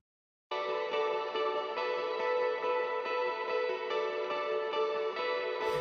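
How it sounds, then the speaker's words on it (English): Electric guitar DI signal reamped through a pedal board with Eventide Time Factor and an amp simulator, playing a sustained, ringing chord after a short silence, loud and steady with rich harmonics, alone. "ran it through my pedal board and through my amp simulator"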